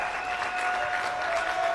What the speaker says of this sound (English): let's give Nishan another huge round of applause, man, for crushing it